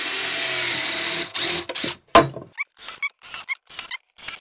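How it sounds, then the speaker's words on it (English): A power drill with a countersink bit whirs steadily for about a second while pre-drilling wood, then a series of short, sharp bursts and squeaks follow as it bites and stops, close by. "the countersink bit right there, and we'll pre-drill these"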